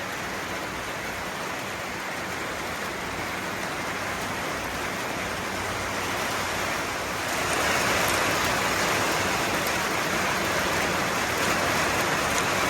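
Light rain falls steadily outdoors as a dense, even hiss that grows slightly louder partway through, with no voices.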